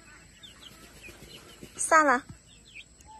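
A young chicken lets out one short, close warbling call amid faint chirps, while a person briefly speaks.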